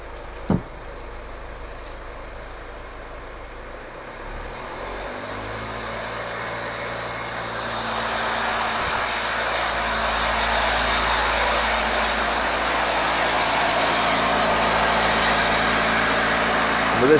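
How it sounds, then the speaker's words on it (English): A vehicle engine being checked for an intermittent fault idles steadily, then its revs climb to a sustained, louder run around 1200-1500 RPM, heard close and alone for the whole stretch. "I'm now going to escalate the revs to about 12 to 1500 RPM."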